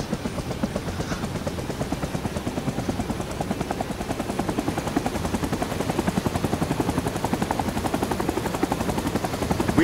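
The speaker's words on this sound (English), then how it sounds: "let's see what it's like being on the helicopter then" Helicopter rotor in the video game Rising Storm 2 Vietnam, a steady rapid chopping thrum heard close and continuous throughout, with faint gunfire in the background.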